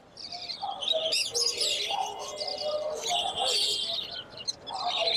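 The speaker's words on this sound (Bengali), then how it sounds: "দুইটা পাখি খুবই অ্যাক্টিভ, গ্রিন চেক এবং পাইনাপল কোনোর" Young hand-fed green-cheeked and pineapple conures at a Tongi bird market in Bangladesh, a busy run of shrill chirps and squawks close by, with voices talking among them.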